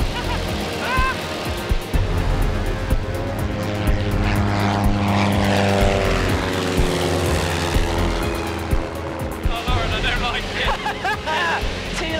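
A Christen Eagle aerobatic plane climbing steeply, its propeller engine a loud, steady droning roar close by for the whole stretch, with some voices mixed in beneath.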